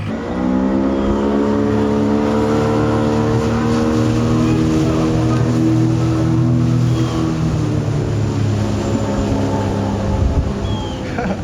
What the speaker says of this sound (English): It's a custom fiberglass speedboat.